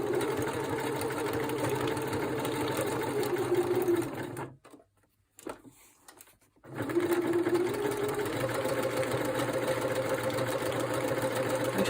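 A sewing machine stitches through paper ephemera, a steady mid-pitched whirring run that pauses briefly in the middle with near silence and light handling, then resumes just as evenly, close and alone.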